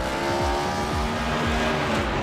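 NASCAR race cars roar past on the track one after another, their engine pitch rising and then dropping as each passes, loud and continuous with no commentary.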